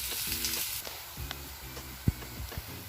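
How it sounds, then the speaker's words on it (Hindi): Onions fry in a pan until brown, a soft steady sizzle close by with occasional clinks and stirring scrapes, fairly quiet and with no talking. "इसको ब्राउन होने तक हमने फ्राई करना है।"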